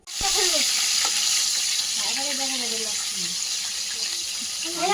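Catla fish heads fry in oil in a pan, a loud, steady sizzle with stirring scrapes throughout, while voices talk over it.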